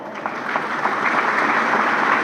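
Applause at a gathering where guests are invited to stand: dense, loud clapping from a large crowd, steady and sustained throughout, with no talking over it.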